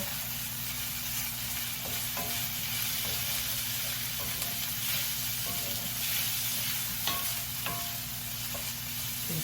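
Beef, garlic and vegetables sizzle hard in a pan while being stirred, a continuous loud frying hiss broken by scattered scrapes and clinks of the utensil, close up with no voices.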